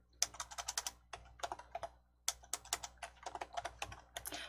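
File name typed on a computer keyboard, a close, quiet series of rapid crisp key clicks in uneven bursts with brief pauses between words, no speech.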